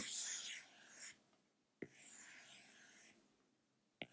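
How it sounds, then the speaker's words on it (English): Pen or pencil drawing four large circles on paper: two long, soft scratchy strokes close to the mic, each ending in a light tap, with quiet gaps between them. "You can start the process by drawing 4 big circles"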